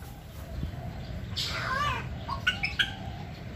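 A palm cockatoo in a bird cage gives a harsh, rising squawk followed by a few short sharp calls, fairly close over a low background hum.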